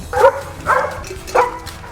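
Dogs on a dog farm give three separate barks at even intervals, fairly close and loud.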